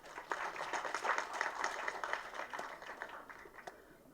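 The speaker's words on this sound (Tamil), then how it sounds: "அதிபயங்கரமான மிகுந்த கரகோஷத்தை கொடுத்ததுக்கு நன்றி" Audience at a Tamil movie audio launch for Chiclets 2K Kids clapping, a fairly faint, steady patter of many hands lasting several seconds without talk.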